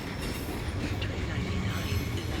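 A train pulls out of Milano Centrale station, a steady low rumble of rolling wheels and rail noise that holds loud and continuous throughout.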